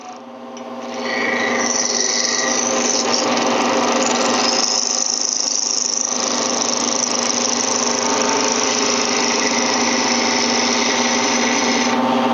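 A skew chisel on a woodturning lathe cuts shavings from a spinning wood blank, making a loud, continuous high-pitched hiss and whine over the lathe's steady hum with no breaks.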